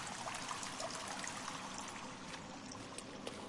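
Water trickles and streams steadily inside a cave in The Forest video game, a continuous soft wash of running liquid with no voices over it.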